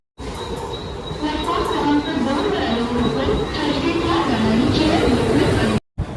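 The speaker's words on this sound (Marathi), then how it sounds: "ट्रेन येते चला" A train rumbles into a station, a loud steady roar with metallic whine, while a crowd chatters around it.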